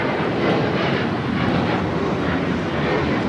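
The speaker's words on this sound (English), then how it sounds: "2729 taking off to Houston Intercontinental on the 737-900ER" United Airlines Boeing 737-900ER jet taking off at LAX, bound for Houston, a loud, steady broadband engine roar that holds strong and close throughout with no voices.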